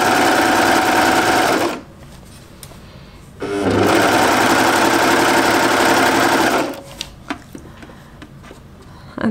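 Sewing machine stitching elastic into a knit jumpsuit seam, two loud sustained runs of about two and three seconds separated by a pause with small clicks, no talking.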